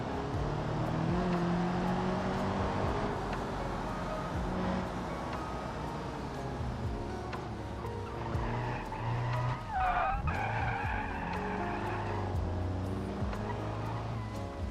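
A car in the BeamNG video game drones and skids with squealing tires as handbrake taps swing it through corners, engine note rising and falling over steady tire scrub.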